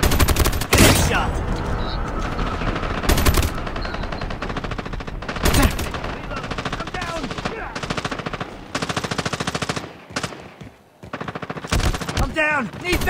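Gunfire in the video game Call of Duty Mobile: loud, dense bursts of automatic fire and single shots, almost unbroken, with game voice callouts and player talk in between and a short lull near the end.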